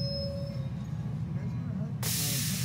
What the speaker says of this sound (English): So the train pulls up to the platform here.